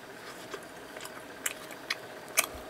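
Convenience store gyoza dumplings eaten plain, giving a few soft close bites and chewing clicks spaced irregularly over a quiet room background.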